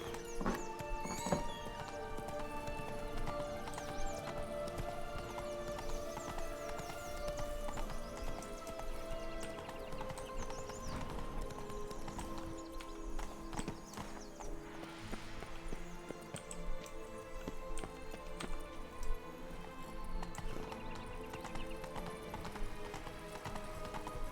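Horse hooves clip-clop steadily in The Witcher 3 video game, a continuous galloping rhythm with an occasional neigh, set over a constant bed of game music and ambience.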